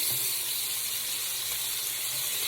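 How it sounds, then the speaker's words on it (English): Steady crackling sizzle of bacon frying in a pan, a continuous hiss with fine popping, no voices. "So you hear this bacon sizzling?"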